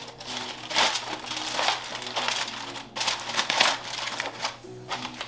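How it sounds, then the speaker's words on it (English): Aluminum foil crinkling and crumpling as it is wrapped around twice-smoked holiday hams, close and fairly loud in irregular rustling bursts with a brief pause midway. "So let's get some foil on these."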